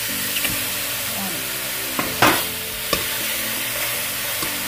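Chicken for curry sears in hot oil with a steady close sizzle and crackle, punctuated by a few clinks of stirring utensils, and no talk over it.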